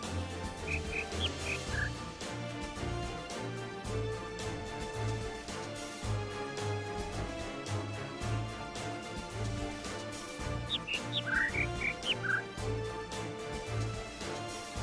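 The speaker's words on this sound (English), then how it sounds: "What's this bird sound like again?" Bird song plays as part of an environmental sound puzzle in the video game The Witness, brief chirping phrases rising over a dense, layered ambient bed of steady tones and low pulses.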